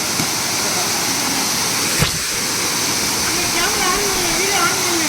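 A waterfall roars in a steady, dense rush close by, with faint voices mixed into the constant noise.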